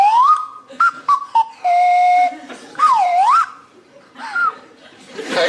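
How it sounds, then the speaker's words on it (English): A panellist blows a woodland whistle in short sliding toots and a held steady tone, loud and close, with chuckles and laughter from the room around it. "a selection of fully renewable wind and calorie-powered woodland whistles to attract my attention"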